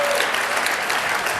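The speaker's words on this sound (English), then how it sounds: "I think you're going to get a lot of applause from these guys for that." Studio audience applause on a late-night talk show, a loud, dense burst of clapping from a crowd, continuous throughout with no pauses.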